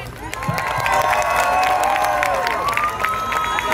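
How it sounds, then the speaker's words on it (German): Concert crowd at an open-air Schlager show in a park cheers and applauds loudly and steadily, with whistles and shouted voices rising above the dense clapping throughout. "Der Christian bekommt einmal für seine Ehrlichkeit einen Applaus."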